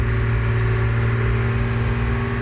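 A farm truck engine strains uphill at full throttle in second gear, giving a loud, steady, unbroken drone heard from inside the cab with no voices.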